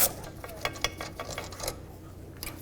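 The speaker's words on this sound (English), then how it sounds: "I'm just going to use a ratchet wrench and get those two completely out of here" Ratchet wrench turning out caliper bolts on a Pontiac G6 rear brake, quick faint clicking bursts close by, irregular and sparse.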